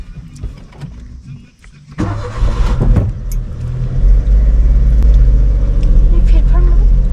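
A car engine on an unpaved village dirt road during a driving lesson, a steady rumble that swells and grows louder as the vehicle gets going, with people talking over it.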